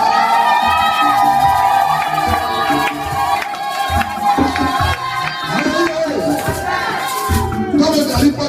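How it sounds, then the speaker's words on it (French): A church congregation shouts victory cries together, a loud, sustained mass of cheering voices with shrill peaks, swelling and dipping over several seconds, with music playing underneath. "Est-ce que tu peux pousser les cris de victoire?"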